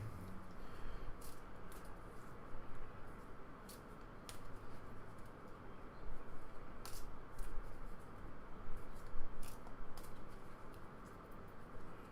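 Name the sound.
shuffling Warcry game cards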